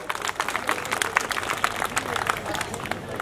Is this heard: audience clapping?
yes